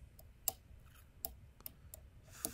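Sharp, faint metallic clicks from a lock pick working the pins of a Segal pickproof lock, about five or six scattered ticks at irregular intervals over a quiet background, close up.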